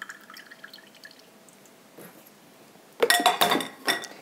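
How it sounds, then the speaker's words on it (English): Strawberry juice is poured into a small saucepan. It starts as faint drips over near silence, then a louder burst of splashing and clinking against the pan near the end. "I'm going to take all of this juice, I'm going to put it in a small saucepan"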